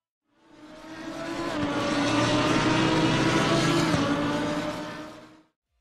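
Race car engine in the driving game Assetto Corsa, a loud, steady, harmonic drone that fades in, holds high revs for several seconds with slight pitch shifts, then cuts away.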